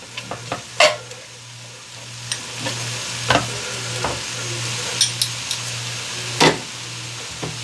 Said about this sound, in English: I'm hearing my sizzle to come up.